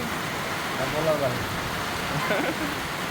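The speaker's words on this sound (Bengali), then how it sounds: "দর্শক কি পরিমাণ বৃষ্টি হইতেছে" Heavy rain falls steadily outdoors during traditional canal fishing with a spear in Bangladesh, a continuous broadband hiss with faint water sounds beneath.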